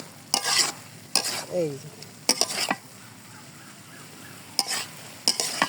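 Egg, potato and pointed gourd curry is stirred in a pan, several bursts of scraping spoon strokes over a soft sizzle, with a brief spoken phrase between them.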